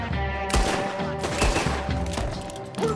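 Gunfire in Red Dead Redemption 2 erupts in several sharp, close shots spaced irregularly over a sustained tonal game background, with one louder burst near the start and another midway.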